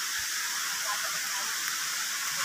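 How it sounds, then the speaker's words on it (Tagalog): A waterfall in Baler, Aurora roars as a steady, broad rush of falling water, heard from some distance, constant and unbroken throughout. "Naririnig na namin dagundong ng falls."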